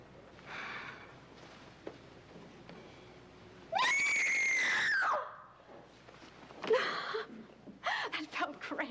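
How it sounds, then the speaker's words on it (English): A woman gives one long, loud, sustained scream lasting over a second, rising sharply and then breaking off. Quieter voices and breaths are heard before and after it, in a 1973 film drama. "Then scream."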